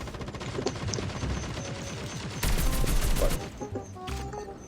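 Rapid automatic gunfire in the mobile shooter Call of Duty Mobile rattles in fast, steady bursts, with a louder, denser stretch of shooting partway through and a few sharper single shots near the end.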